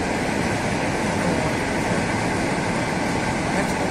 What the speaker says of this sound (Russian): Это обычная электричка дальняя, которая идет куда-то в сторону Волоколамска.